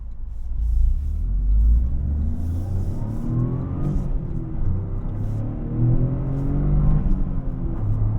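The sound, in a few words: 2025 Toyota GR Corolla engine accelerating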